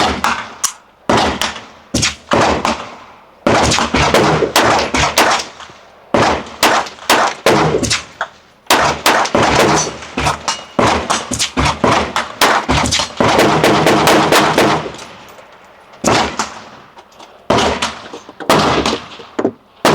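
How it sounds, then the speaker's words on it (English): Unsuppressed gunshots from a firearm fired without its Banish suppressor, a rapid series of loud, sharp cracks in close succession with short gaps, sometimes bunched into quick strings, heard up close with no talking. "we're going to shoot this without the suppressor"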